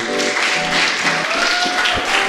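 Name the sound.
audience applause for saxophonist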